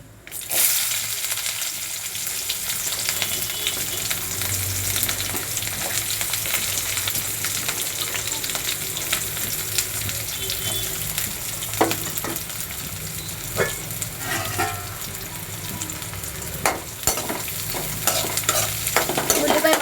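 Onion and green chillies sizzle loudly in a hot pan while a spoon stirs them again and again, with repeated scraping and clinks over a steady crackle, heard close and without talk.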